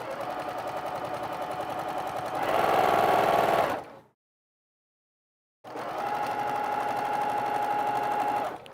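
A sewing machine quilting fabric for a child's apron stitches in rapid, steady bursts, speeding up briefly, pausing in a short silence, then resuming its even mechanical whir close by.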